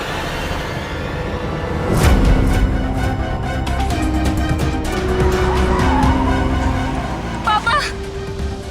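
A car with failed brakes skids and squeals its tires over a constant engine roar, with a sharp screech partway through and more squeals later. Voices speak at times.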